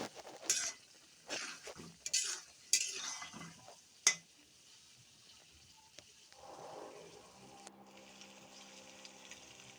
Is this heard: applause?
no